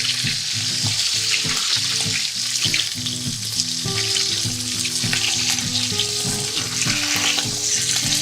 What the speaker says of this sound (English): I always like to brown the meat first.